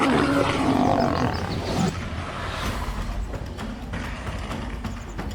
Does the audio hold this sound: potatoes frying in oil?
no